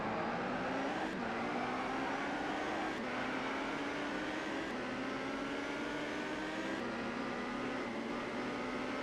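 A pack of Formula Ford race cars pulling away from a standing start in ToCA 2 Touring Cars, engines droning and climbing in pitch through repeated gear changes, a steady loud wash of motor noise with no voices.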